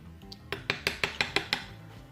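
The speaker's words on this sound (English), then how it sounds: "So I'm just going to take a spoon of each one." A spoon scoops nail glitter in a small pot, making a quick series of about seven evenly spaced, close, bright clinks and scrapes over a quiet background.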